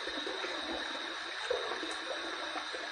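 Hot tap water runs steadily from a faucet to warm a Gillette Heritage razor before a shave, a constant close hiss and splash with no pauses and no voices.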